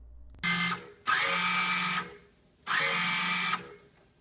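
A Theater of Magic pinball machine's magic trunk turns before repair and cleaning: three close, loud mechanical whirring bursts, each about a second long, separated by short quiet pauses.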